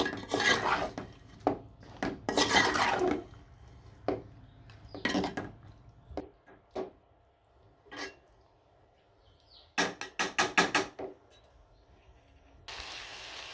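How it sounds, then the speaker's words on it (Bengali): Chicken is stirred and sautéed with potatoes in a metal pot, giving irregular bursts of scraping and clanking utensil strikes against the pot, separated by quiet gaps, close and fairly loud, with no voices. "মাংসটা খুব সুন্দরভাবে ভালো করে চারা দিয়ে কিন্তু কষিয়ে নেব"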